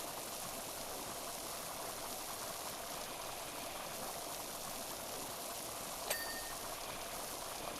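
In the Power Wash Simulator video game, a pressure washer sprays pond water in a garden with a continuous, loud, even hiss of rushing water and one brief faint click near the end.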